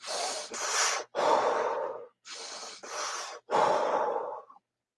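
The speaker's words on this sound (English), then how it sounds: "There is a shamanic breathing technique that he'll do. It's a inhale through the nose. It's a inhale through the mouth. Exhale." Six forceful breaths come close and loud in a shamanic breathing technique, alternating inhales through the nose and mouth with strong exhales and short pauses between them, and no words are spoken.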